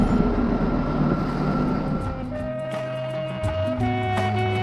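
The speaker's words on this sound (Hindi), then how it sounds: "दिन में कई बार ट्रेन आने जाने के आवाज से, यात्रियों के शोर से जागता और सोता रहता है ये स्टेशन।" A train idles at a small Himalayan station on the Shimla line, giving off a heavy low engine rumble and mechanical hum, with clanks and tonal whines layered over it and no voices.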